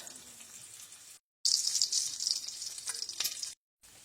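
Bacon frying in a pan gives a bright, crackling sizzle that surges loudly after a brief cut, then drops away, with a softer sizzle before it.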